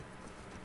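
Horse hooves clip-clop in The Last of Us Part II, a short, quiet, steady run of hoofbeats heard alone.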